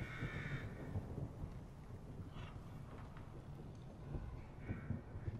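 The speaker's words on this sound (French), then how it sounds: "On entend des bruits de corbeaux." Crows cawing in the horror video game The Evil Within, a few faint, scattered caws under heavy wind-like noise and low rumbling ambience.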